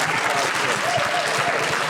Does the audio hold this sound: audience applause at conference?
yes